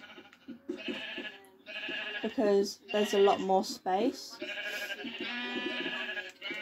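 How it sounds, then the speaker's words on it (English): Minecraft sheep bleat several times in short wavering calls, clustered in the middle and mixed with other game sounds, while someone talks over much of it. "I think the sheep prefer the outside"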